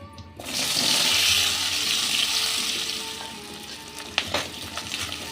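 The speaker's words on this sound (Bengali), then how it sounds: "এবার এই তেলেই আমি আলুটাকে ভেজে নেব।" Potatoes frying in hot mustard oil left from frying duck eggs, giving a close, loud, continuous sizzle that eases slightly over time, with a couple of sharp clinks near the end and no speech.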